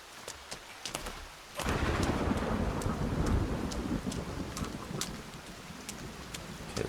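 Heavy rain pours steadily in the Sons of the Forest survival game, loud and dense after an abrupt surge, with repeated sharp crackles of thunder over a broad rushing wash.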